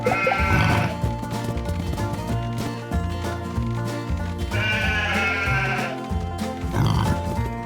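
Cartoon sheep bleat in wavering cries that come in two bursts, with steady lower animal noise underneath.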